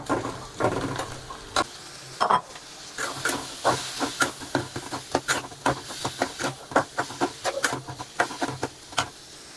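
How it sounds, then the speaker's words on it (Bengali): Chickpeas fry in hot oil with a continuous close hiss and sizzle, broken by a rapid series of sharp scraping and stirring strokes, with no voices. "এখন আমি ছোলাগুলা ভেজে নিব।"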